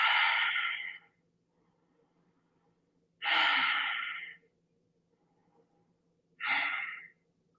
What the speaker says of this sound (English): come out of it and take three deep breaths